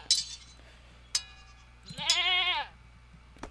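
A couple of sharp clicks, then a single clear, wavering goat bleat from the strategy game 0 A.D., close and moderately loud, over a quiet low hum.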